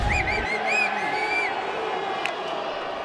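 At a Karate Combat fight, a crowd cheers and whoops in a steady roar, with high shouts rising briefly over the din early on.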